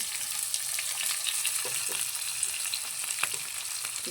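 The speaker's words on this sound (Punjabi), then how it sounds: "ਮੈਂ ਪਾਤਾ ਜੀਰਾ ਤੇ ਹੁਣ ਮੈਂ ਪਾਤਾ ਪਿਆਜ਼ ਤੇ ਲਸਣ" Cumin, onion and garlic frying in a pan for a round gourd (tinda) sabzi, a steady close sizzle with small crackles and pops throughout, no talking.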